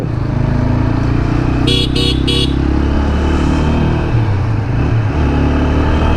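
An Apache RTR 160 4V motorcycle rides through busy road traffic, its engine droning loud and close with other vehicles around, and three quick horn toots cut through partway along.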